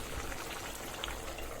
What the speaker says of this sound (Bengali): আমার ডাল ফুটে আসতেছে।